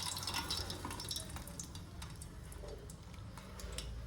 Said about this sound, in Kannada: ಈಗ ಇದನ್ನು ಆಯಿಲ್ಗೆ ಹಾಕ್ತಾಯಿದ್ದೀನಿ.